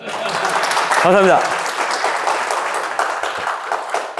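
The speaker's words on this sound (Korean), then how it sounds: "이렇게 박수 치십시오." Audience applause at a 2022 pig-farming award presentation for shipped-pork quality, a steady broadband clatter of many hands running throughout while someone speaks briefly over it.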